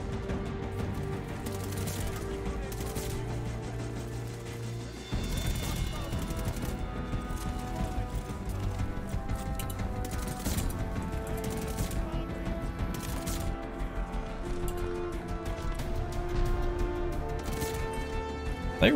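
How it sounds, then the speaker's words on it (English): Gunfire in Call of Duty: Vanguard multiplayer, with rapid bursts of automatic shots and scattered single cracks going on almost continuously, some close and sharp, others further off, over constant game noise and music. "Stop shooting me through walls"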